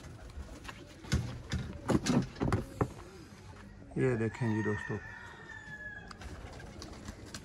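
Breeder pigeons in a loft coo in low bursts while someone talks over them, and a louder, crowing-like call rises midway through.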